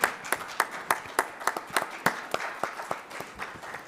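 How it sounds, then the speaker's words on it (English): An audience at a conservation conference Q&A session applauds panelists, a modest round of clapping in a steady patter of distinct claps that gradually thins and fades over a few seconds. "just a round of applause to them for giving us their time"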